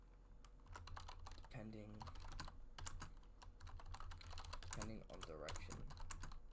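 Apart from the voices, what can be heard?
typing notes on a computer keyboard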